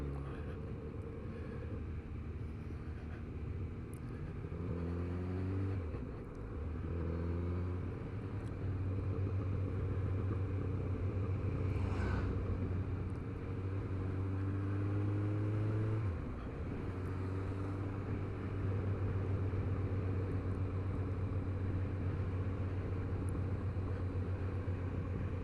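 A Kawasaki Z900RS motorcycle rides along a downhill stretch, its engine and exhaust holding a loud, steady drone. The pitch dips and climbs around gear changes, with no talk.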